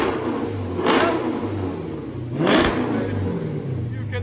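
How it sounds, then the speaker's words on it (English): Dodge Charger R/T with a Hemi V8 engine, revved twice in quick bursts over a deep rumbling idle, loud and close by, with a voice speaking briefly. "You cannot beat the Hemi sound."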